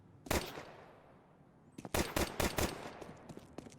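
Gunfire in Counter-Strike 2 during a pro match: one sharp shot, a pause, then a quick burst of several rapid cracks, fairly faint over a quiet game backdrop.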